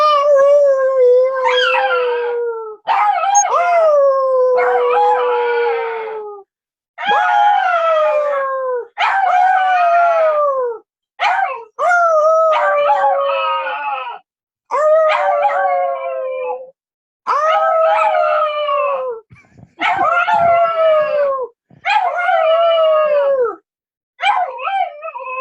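A dog howls repeatedly, long wavering drawn-out howls close and loud, separated by short silent pauses, with no talking in between.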